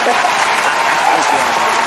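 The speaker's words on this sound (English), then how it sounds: "Round of applause." Brief burst of applause on a livestreamed mix show, continuous and fairly loud, with a voice talking over it throughout.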